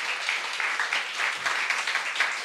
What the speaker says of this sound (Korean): 우리 박수 한번 해봅시다